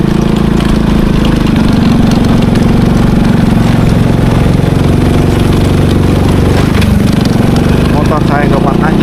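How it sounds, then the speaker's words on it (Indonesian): A motorbike engine strains while climbing a hill on a remote road through pine forest, a loud steady drone running throughout with a brief dip near the end. "Motor saya nggak kuat nanjak."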